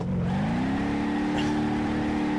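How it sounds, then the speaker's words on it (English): Gavril Barstow RS pulling away in second gear in BeamNG.drive, a steady loud engine drone whose pitch climbs slowly and evenly as it labors up through the revs without a pause. "We're going to try taking off in second gear here."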